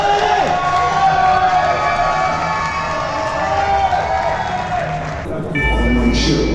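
Crowd at a boxing gala cheering and shouting with applause mixed in, a loud, continuous roar of many voices and whoops, with amplified talk joining near the end.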